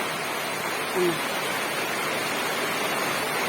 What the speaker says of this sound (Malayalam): നല്ല ശക്തിയിലാണ് പെയ്യുന്നത് മഴ മഴയുണ്ട് ചെറിയ കാറ്റുമൊക്കെ ഉണ്ട്